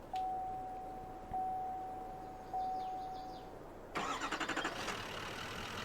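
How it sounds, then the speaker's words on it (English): A Chevy Duramax dump truck in Farming Simulator 22 cranks and starts: a steady electronic tone with short chimes gives way to a sudden louder burst of starter chatter and rising engine noise near the end. "The engine definitely sounds pretty good here."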